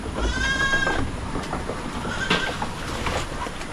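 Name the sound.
goats bleating on a farm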